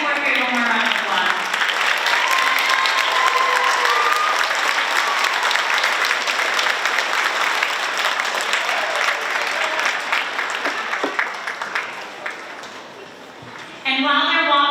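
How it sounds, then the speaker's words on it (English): Sustained audience applause for 4th grade string players at an all-district strings festival, loud and dense at first, then thinning and fading near the end before a brief resurgence, with some murmured voices mixed in. "let's go ahead and give 4th grade one more round of applause"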